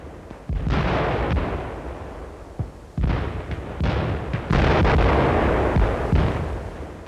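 World War One mortar fire in old archival film: a dense run of loud, rumbling booms and blasts, one after another, with no talk.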